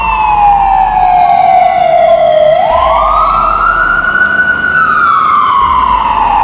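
A Punjab government ambulance siren wails loud and near, one long continuous tone sweeping down then rising again, over steady road noise with no voices.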